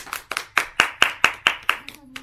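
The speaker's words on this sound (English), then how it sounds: "Everybody, clap your hands." A family claps hands together at home, about nine sharp claps in a quick, slightly uneven rhythm, close and clear, ending with a brief voice at the close.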